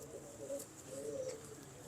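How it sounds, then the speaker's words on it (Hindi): A pigeon coos softly and steadily in a close, quiet setting, its low murmuring calls running continuously with no talking over them. "यार ये बहुत मजेदार कबूतर है"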